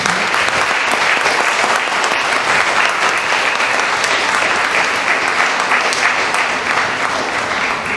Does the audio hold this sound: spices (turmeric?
no